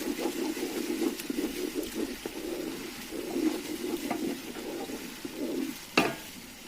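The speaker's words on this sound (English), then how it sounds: "Going to stir it." A spoon stirs curry powder and thyme into a simmering chicken stew, giving soft repeated scraping and gentle bubbling with a faint sizzle, and a sharper clink near the end.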